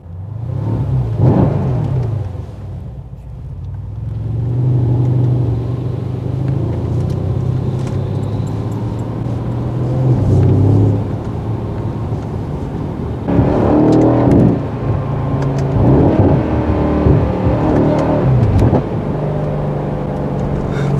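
A 2017 Mercedes-AMG C63 driving in Sport Plus mode gives a deep, loud engine rumble and throaty exhaust that swells with acceleration and drops between pulls, with no talk over it.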